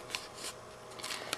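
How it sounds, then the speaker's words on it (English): Scissors snipping into paper or card during a magic-trick craft demonstration, a few quick quiet cuts in succession, close and soft, with no talking. "Next, taking scissors."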